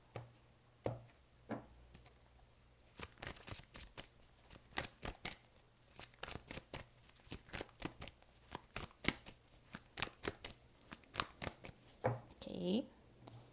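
A tarot deck is cut and shuffled close up, with rapid crisp riffling card slaps in irregular bursts over several seconds and a faint voice murmuring near the end.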